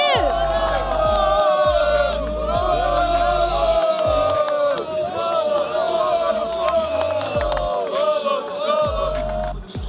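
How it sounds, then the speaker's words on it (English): Brazilian fans at a League of Legends esports event cheer and chant in a loud, continuous crowd roar, rhythmic shouts rising over the din. "We have people cheering here, Brazilians here, everywhere."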